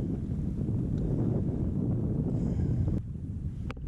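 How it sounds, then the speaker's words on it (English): Steady wind buffets the microphone aboard a small fishing boat at sea, a constant low rumbling roar with a faint click near the end and no talk. "It's a little bit windy than I was expecting."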